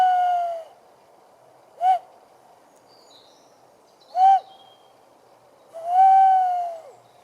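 A tawny owl hoots four times from a pine plantation, each call a clear, wavering note separated by pauses of quiet, fairly close and alone.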